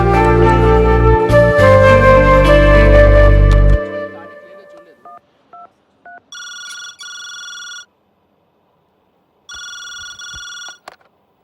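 A telephone in a Telugu film scene rings in two long electronic bursts with a pause between them, loud and close, after a swell of music fades out; no one speaks.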